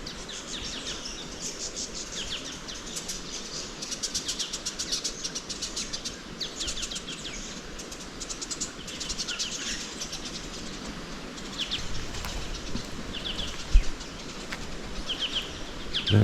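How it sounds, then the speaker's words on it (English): Birds chirp and twitter continuously in the open air at Myall Lakes, Australia, with bursts of wingbeats and soft outdoor background noise. "we're actually just listening to all the amazing birds around the area."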